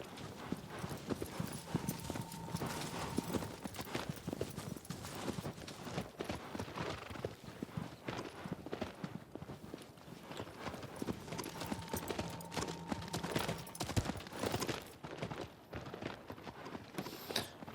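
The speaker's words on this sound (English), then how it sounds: "it's literally just the sound of a horse galloping" A horse gallops in the video game Shadow of the Colossus, rapid rhythmic hoofbeats on the ground continuing throughout at moderate volume with no music.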